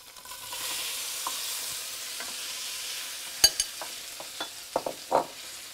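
Ingredients sizzling in a hot pan under a steady hiss, with several sharp scrapes and clacks of a utensil as they are stirred around; no voices.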